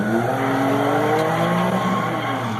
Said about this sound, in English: Oh, it was on ice. That's why this car keeps sliding.